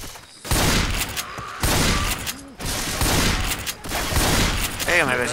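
Dense bursts of Left 4 Dead 2 gunfire rattle in rapid sequences, loud and close, with brief pauses between volleys and a voice talking over parts.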